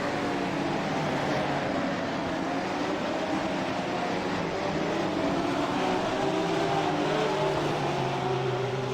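A GT3 race car at full throttle on the VIR circuit, its engine a steady, loud drone with slowly rising pitch as it accelerates, continuous and close with wind and road noise underneath.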